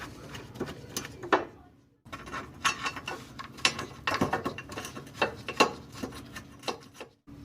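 A hand ratchet clicks and rasps in quick uneven runs while bolts are fastened on a Nissan Altima or Maxima lower control arm bracket, close and fairly quiet, with a brief pause early on.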